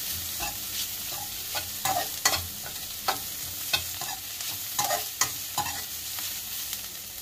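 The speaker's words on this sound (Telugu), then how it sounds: "ఇప్పుడు ఇందులోకి అల్లం వెల్లిపాయ పేస్ట్, బాగా ఫ్రై అయిపోవాలి, పచ్చివాసన పోవాలి" Ginger garlic paste frying in a hot pan for egg noodles, a steady close sizzle with repeated scraping stirs of a spoon against the pan, no talking.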